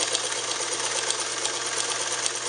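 A Japanese-made sewing machine, General brand, runs steadily while stitching fabric, its fast continuous buzzing whir holding even and close with no pauses or voices.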